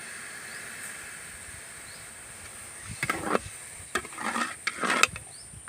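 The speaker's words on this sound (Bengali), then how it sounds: "দেখুন চিনি শিরাটা ফুটে উঠেছে" Sugar syrup with crushed cardamom simmering in a pan, a steady soft hiss with scattered crackling bursts and bubbling pops growing busier toward the end, close and fairly quiet.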